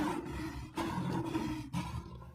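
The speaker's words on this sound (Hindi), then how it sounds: "आवाज से तो लगता है कि कोई शेर मेरी ही ओर बढ़ता चला आ रहा है।" A cartoon-style lion roar, loud and close, sounding in two long swelling bursts with a brief break between them, heard alone with no talk.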